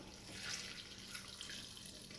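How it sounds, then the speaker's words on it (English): Tap water running steadily into a blender jar holding torn paper for papermaking, a soft continuous splashing hiss close by with no voices. "now what I'm going to do is just add some water to my blender"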